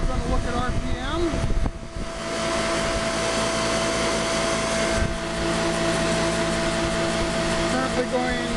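A modified imperial DC motor turning the crankshaft of a 10 kW generator at 3,300 RPM hums loudly and steadily, with a constant whirring drone and tonal whine that briefly dips early on before holding even.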